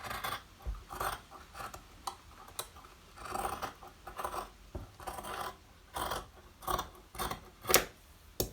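Scissors snip through blouse fabric during simple blouse cutting, a string of sharp, close, fairly quiet crisp cuts arriving in uneven bursts with short pauses between them.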